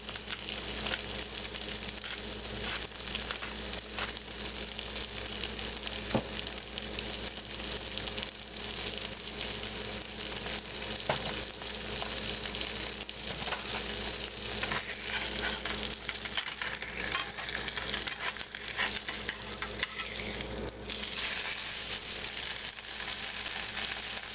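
Ham and an egg frying in a pan, a soft, steady crackling sizzle that runs evenly throughout with small pops, fairly faint and with no talking.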